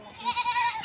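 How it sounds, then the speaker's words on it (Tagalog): A goat in Bohol, Philippines, lets out one short, close bleat with a wavering, nasal tone. "Oh, may kambing dito."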